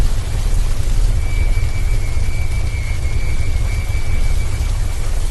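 Steady, loud rain falling without a break near an old, deserted graveyard, a dense continuous hiss that fills the whole stretch with no voices over it.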